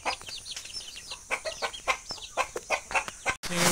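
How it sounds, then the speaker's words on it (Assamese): Farmyard chickens with chicks cluck repeatedly in short bursts across the whole stretch, fairly close and clear, with no talking over them. "মুৰ্গী"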